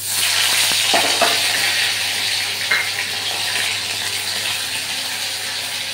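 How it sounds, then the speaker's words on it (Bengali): Poppy seed paste frying in hot oil, a loud and steady close sizzle that holds throughout with a few soft stirring knocks and no talking. "তো তেলের মধ্যে দিয়ে দিচ্ছি পোস্ত বাটাটা"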